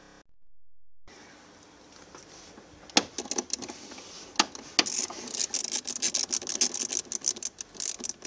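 Ratchet tightening a screw while refitting a battery, a rapid run of sharp clicks that builds from about three seconds in and keeps clattering close by, with no speech.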